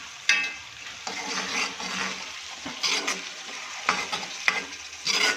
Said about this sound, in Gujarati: આપણે ગ્રેવીને સારી રીતે થવા દઈશું તેલમાં.